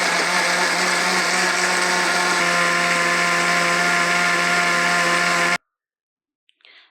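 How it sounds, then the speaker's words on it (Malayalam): A kitchen mixer runs loud and steady, blending Sharjah shake with vanilla ice cream, a constant whirring drone for several seconds that cuts off abruptly into near silence. "നമുക്കിത് മിക്സർ അടച്ച് ബ്ലെൻഡ് ചെയ്യാം."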